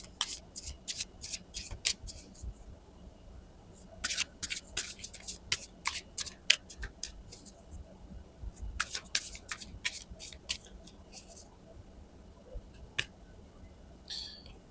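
Tarot cards being shuffled by hand in repeated riffling bursts of crisp papery flutters, close and fairly quiet, with brief pauses between runs and no talking.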